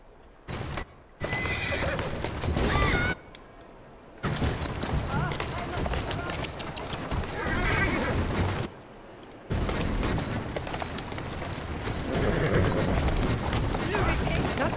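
Horse-drawn carriages in the Assassin's Creed Syndicate video game, with a horse whinnying loudly several times over steady clip-clop hoofbeats and rolling wheels, broken by short quiet gaps.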